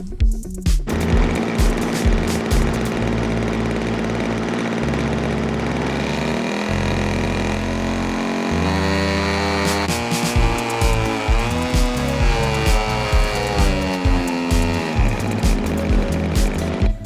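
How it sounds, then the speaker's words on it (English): A Decathlon light aircraft's engine runs up on the ground, a steady, loud, droning mechanical roar with a rough, hammering pulse. The engine note shifts in pitch several times across the run. "we're getting ready to run up the engine, make sure everything's still working"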